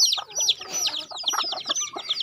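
Several decoy junglefowl chickens of various ages and sizes clucking close by, a busy overlapping series of sharp, chattering clucks and short calls with no pauses.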